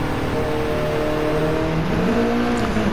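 Turbocharged 2-litre 16-valve engine of a Mitsubishi Lancer Evolution III rally car in Gran Turismo 7, droning loud and steady, its pitch climbing slowly as the turbo lags behind the throttle, with no talk over it.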